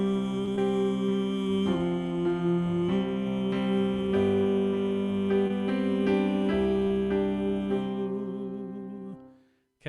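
Choir tenors in rehearsal sing a sustained ooh line that steps down a tone in the second bar, held evenly over accompanying harmony for several seconds before cutting off.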